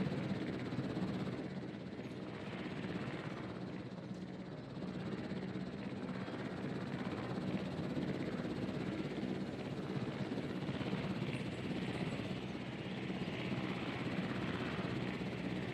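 Helicopter in the dinosaur park game Jurassic World Evolution, its rotor and engine drone holding steady and fairly loud throughout, alone with no talk.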